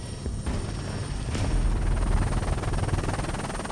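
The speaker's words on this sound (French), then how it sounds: "Un hélicoptère Fennec avec à son bord un tireur d'élite." A Fennec military helicopter flies nearby with a steady, loud rotor thump and turbine roar, with no speech.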